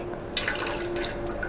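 Water streams out of a hole in a container in a pressure-versus-depth experiment, making a steady trickling, splashing patter close by with no talking.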